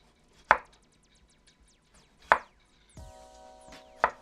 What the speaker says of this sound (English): let's get some potatoes out and we'll slice those up while we're waiting